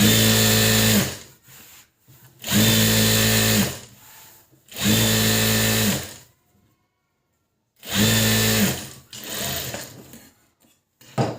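A domestic sewing machine top-stitches a blouse lining in three loud, steady runs of a couple of seconds each, separated by short pauses and a longer gap. After that gap comes a fourth run and then a softer, stuttering burst.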